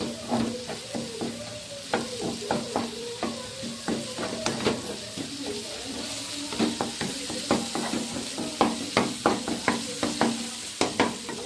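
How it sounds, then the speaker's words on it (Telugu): Stir-frying on high flame for egg fried rice, a steady sizzle under rhythmic metal scraping and tapping of a spatula against the pan, repeated in quick bursts throughout. "కొంచెం హై ఫ్లేమ్లోనే పెట్టుకొని వేయించుకున్నాం."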